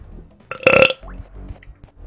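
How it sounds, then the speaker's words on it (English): A single loud, close burp with a tonal, voiced quality, short and abrupt amid quiet background. "I burped."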